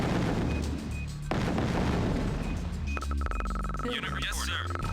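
Gunfire and booming artillery from units in the strategy game Command & Conquer: Tiberian Sun, playing as GDI, dense and continuous under a talking voice with game music.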